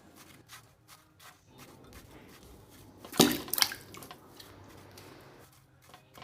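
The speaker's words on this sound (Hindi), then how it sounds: "कुहू और पीहू आलू को पानी से भरे बर्तन में डालती हैं" A potato dropped into a pot filled with water makes one brief, bright splash midway, with gentle dripping and small water movements around it and no talk.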